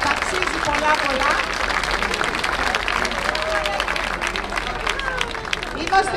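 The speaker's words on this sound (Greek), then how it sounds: "ένα χειροκρότημα για τη μαέστρο μας" An audience at a charity concert event applauds the conductor, a steady, loud wash of many hands clapping with faint crowd murmur beneath, continuing without a break.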